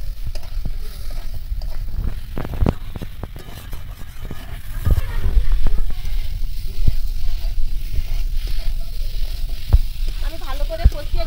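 Young jackfruit and potato pieces sizzle in spiced oil with steady frying noise and scattered clattering stirs, close and fairly loud throughout.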